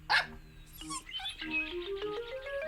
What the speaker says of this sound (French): s'arrêta devant la fenêtre de la cuisine et se mit à aboyer